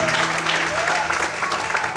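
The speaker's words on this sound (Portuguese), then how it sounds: "Aplauda o Senhor bem forte." Packed church congregation clapping hard in worship, a thick, even roar of applause with slight surges, soft sustained keyboard tones underneath and scattered voices within the crowd.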